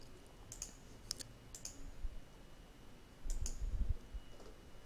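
A handful of sharp computer mouse clicks, single and paired, spaced apart over a quiet room hum, close and faint.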